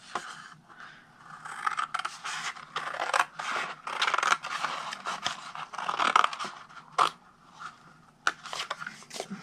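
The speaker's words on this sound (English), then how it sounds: "cut to the second score line, and then we're going to take all of this off" Scissors cut through a paper gift-card flap up to a score line, making quiet, close, irregular snips and rustles.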